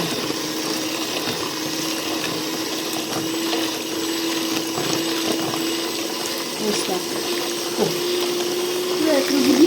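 An electric mixer's continuous whirring motor churns through sour cream and sugar, steady and fairly close, with faint sloshing and a voice speaking briefly underneath.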